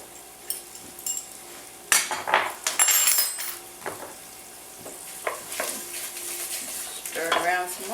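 Tomato paste with sugar being stirred in a pan, a utensil scraping and clinking against metal amid a light sizzle, close by, with irregular bursts of stirring and no talking.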